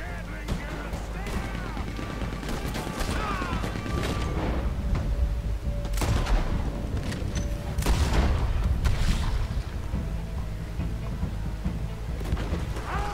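Chaotic gunfire and booming blasts from a Red Dead Redemption 2 battle, with bursts of rapid machine gun fire and distant explosions over steady background noise and occasional voices.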